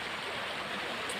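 A stream at Bình Lộc flows with a steady, dense rushing wash of water, close and unbroken, with no voices.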